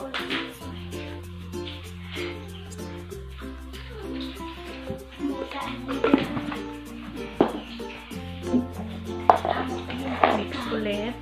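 Banana muffin batter made with oil being mixed in a bowl, irregular scraping and tapping of a utensil against the bowl over steady background music, fairly close and moderate in level.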